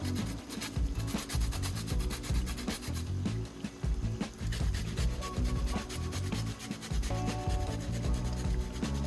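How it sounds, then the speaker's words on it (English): Lemon peel is rubbed against a zester in a continuous scraping rasp of repeated strokes, close and fairly quiet, with no talking. "Now what we're gonna do here is just get the zest of a lemon."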